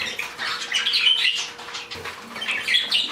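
Canaries and a flock of other birds chirp and tweet continuously, with bright overlapping calls close by and a possible brief flutter of wings, no talking.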